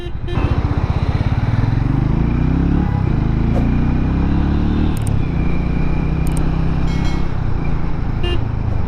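A Hero Mavrick 440 motorcycle rides in third gear at low speed in city traffic, its engine a loud, steady thumping rumble throughout, with short horn toots from surrounding traffic.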